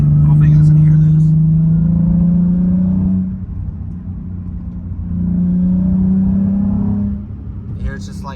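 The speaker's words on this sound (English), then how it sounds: "once we get out here on the street, I'll kind of give it some throttle and you can hear it kind of like sputter" A Nissan Z car engine under throttle on the street, a loud low droning rumble that swells and dips with an uneven, sputtering quality, heard close from inside the car.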